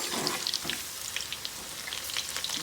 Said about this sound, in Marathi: भजी आता हलवून घ्यायची अशी.